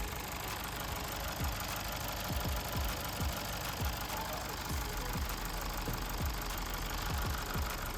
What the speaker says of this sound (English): Start the car with the dead battery and let it idle for a few minutes.